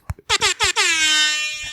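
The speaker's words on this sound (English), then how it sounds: "We're bringing back the air horn" A loud air horn sound effect on a podcast opens with a few short stuttering blasts, then holds one long blaring tone that slowly fades out, clear and close with no talk over it.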